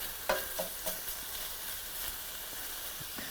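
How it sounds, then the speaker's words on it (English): Prosciutto sizzles and fries in a pan sauce while a spoon stirs it around, giving a steady hiss broken by several light scraping clinks, close and fairly quiet with no talking. "I'm going to add the prosciutto to my sauce. And I'm just going to move that around"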